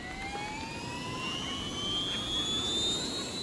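A cartoon toy helicopter flying inside a room, a steady whining engine drone with rising high-pitched tones that swell slightly, moderately loud, with no voices.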